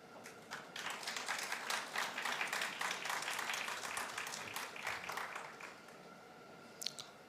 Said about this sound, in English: A big round of applause for our wonderful guest and our dynamic leader.